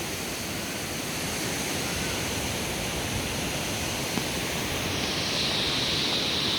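Steady broadband rush of the waterfall at Sinulom Falls in a forest setting, a dense continuous roar that holds even and loud throughout with no voices over it.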